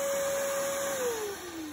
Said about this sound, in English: Next, we vacuum up all the dust and